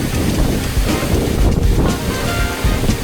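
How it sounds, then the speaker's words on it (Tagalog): Strong wind buffets the microphone with a loud, roaring rush during a boat trip on the river to Pagsanjan Falls, mixed with the wash of waves nearby. "Ang lakas ng hangin."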